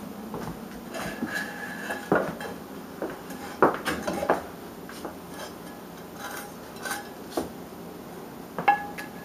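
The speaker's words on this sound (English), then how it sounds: "then you add the ground turkey, smushed up, added with salt and pepper, into the pot with your wooden spatula" A wooden spatula works ground turkey seasoned with salt and pepper around a pot, producing scattered knocks, clinks and scrapes against the cookware at close range, irregular and moderately loud, with no one talking.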